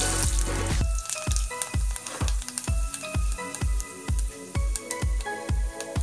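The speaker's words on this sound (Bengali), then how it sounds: "আমার তেলটা গরম হয়ে গেছে, এতে আমি পাঁচফোড়নটা দিয়ে দিলাম।" Panch phoron, Bengali five-spice seeds, hitting hot oil for a sweet tomato chutney: a burst of loud sizzling followed by a run of sharp, regular crackles and pops as the seeds spit in the pan.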